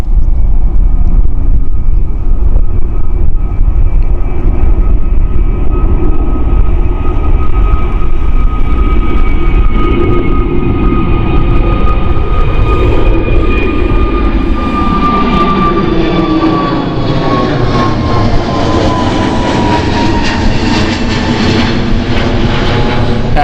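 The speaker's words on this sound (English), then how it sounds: "That's the Airbus A320 taking off right now." An Airbus A320 takes off at Gatwick Airport: a loud, sustained jet-engine roar with a rising whine that holds strong for over twenty seconds, heard alone without talk.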